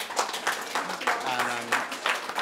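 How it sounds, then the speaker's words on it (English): A conference audience applauds two speakers at the close of a CogX panel session, a dense clapping texture that pulses unevenly through the moment while a voice briefly sounds underneath. "I'd like to give a final round of applause to Pete and Hattie"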